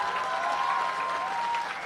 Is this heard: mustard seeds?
no